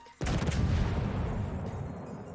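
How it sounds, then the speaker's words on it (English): The main guns of the Italian Tier V battleship Conte di Cavour in World of Warships fire a salvo, one sudden heavy close boom followed by a long rumbling decay, no talk. "13 shells going down range. Could be a good salvo."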